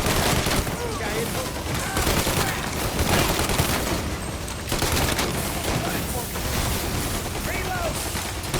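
Dense, continuous gunfire from a shootout in Mafia Definitive Edition, loud rapid bursts overlapping almost without a break for several seconds, with voices shouting under the shots.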